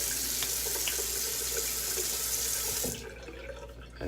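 Tap water runs steadily and fairly close, a full rushing stream wetting a La Toja shave stick soap, then it cuts off abruptly near the end, leaving quieter room noise.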